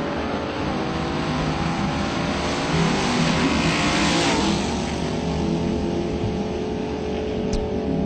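A drag racing car with a 555 cubic inch engine, a small Chevy II, roars loudly and steadily as it revs and accelerates at the strip, a sustained heavy engine drone with a surge in the middle.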